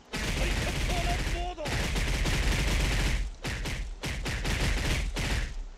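Kars's barrage E ability fires in a video game as a long, fast stream of rapid hits, loud and nearly continuous, broken by a short gap and then a few separate bursts.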